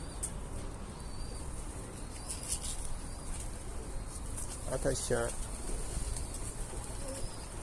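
Soft pigeon cooing rises midway over a steady outdoor hiss, with a person speaking briefly nearby.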